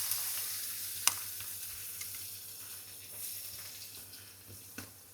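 Onions fry in hot oil in a pan, a steady soft sizzle heard throughout with a few sharp clinks of a utensil against the pan.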